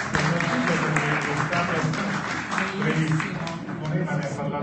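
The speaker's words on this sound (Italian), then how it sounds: "Un applauso a Francesco." Applause from the audience at a theology conference in Assisi, steady massed clapping filling the hall for several seconds, with a voice faintly beneath.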